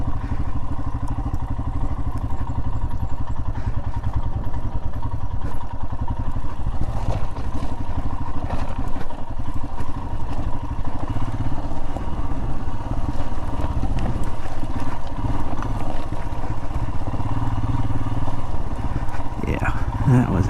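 A Royal Enfield motorcycle engine labours steadily up a steep, rocky desert trail, loud and continuous with rough rumbling and clattering from the rocks throughout.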